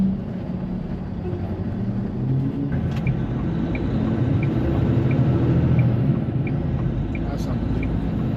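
Steady road rumble from a semi truck rolling onto a highway, a low continuous drone building slightly midway, with faint ticking from a turn signal clicking in a regular rhythm.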